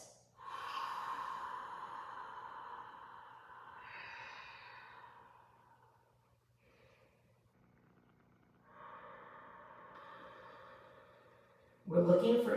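Long, slow breaths during a hip-flexibility stretching session, an airy exhale drawn out for several seconds, then quieter breathing and another long breath, close and soft, with a brief louder sound at the end.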